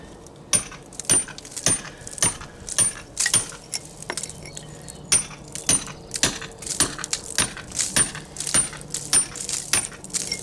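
Chisel struck into a stone wall: sharp metallic clinks land in an irregular, fairly quick rhythm, close and crisp, with no talk.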